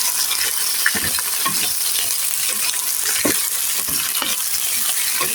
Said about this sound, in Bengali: এখন সবগুলি একসঙ্গে মিশিয়ে নেব।